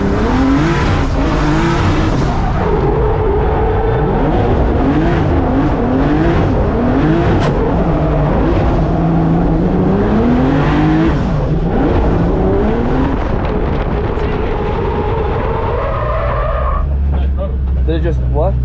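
BMW E36 competition race car on a track day, engine revving hard with rising and falling pitch sweeps through gear changes, loud and close from onboard, with tire squeal and people talking over it.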